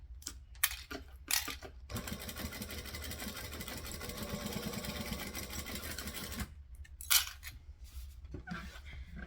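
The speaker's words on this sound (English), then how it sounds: "So I'm going to start here, stitch, back stitch." A sewing machine runs a long top stitch along the edges of fabric, a close continuous whir lasting several seconds, framed by short bursts and clicks of back stitching at the start and end.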